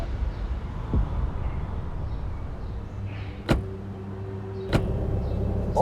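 People get into a car as two solid door thumps land about a second apart, following a softer knock, over a low engine rumble and a whirring power-window motor.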